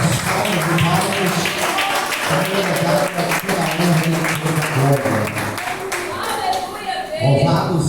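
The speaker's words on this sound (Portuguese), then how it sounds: "Exalte a Jesus com aquela linda salva de palmas" A church congregation claps together in a sustained, dense round of applause, loud and close, with a voice speaking over the clapping.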